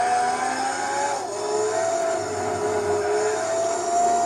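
A race car engine revs hard and holds high in Gran Turismo 4 during the Tokyo R246 300 km endurance race. The car runs on super hard tires, and the drone is loud and steady with no talk.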